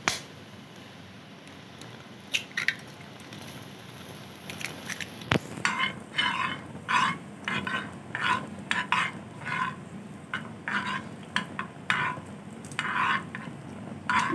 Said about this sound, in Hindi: अंडा फ्राई करते हैं अब हम।